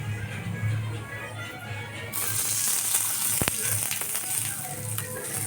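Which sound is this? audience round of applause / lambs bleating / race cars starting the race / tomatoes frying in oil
tomatoes frying in oil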